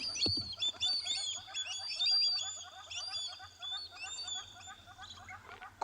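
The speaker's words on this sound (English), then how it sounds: "Listen to the birds as it flies away." Several birds chirp and twitter in rapid, overlapping calls at Ngala Private Game Reserve as a young gymnogene flies off, fairly close and continuous over a low background hum.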